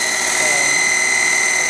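Citizen L16 CNC Swiss lathe with its spindle turning at 3,500 RPM, a steady high-pitched machine whine with constant tonal hum, loud and unbroken, no talking.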